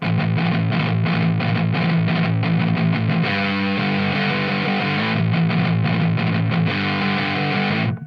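A heavily distorted electric guitar through a distortion pedal, with reverb off, plays dry, sustained chords and riffs, loud and continuous with no echo or room tail.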